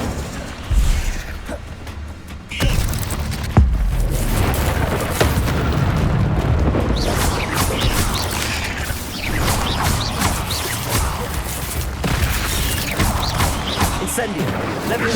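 Incendio fire spells are cast repeatedly in the Hogwarts Legacy video game, giving a run of loud booming bursts and crackling blasts over busy mechanical clatter and game sound effects.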